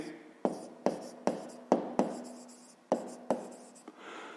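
Pen or chalk tapping and scratching close up while a math solution is written out, about ten quick strokes in an irregular rhythm, quiet, with no talking.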